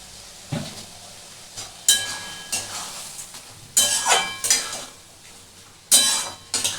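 Shrimp with poppy seed is stirred in a pan with a utensil, making intermittent scraping clatters and short bursts of sizzle against a low background.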